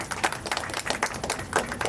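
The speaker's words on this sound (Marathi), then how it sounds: "यांच्यासाठी जरा जोरदार टाळ्या होऊन जाऊ" Scattered hand clapping breaks out at a Haldi function event, a brief patter of claps of moderate loudness.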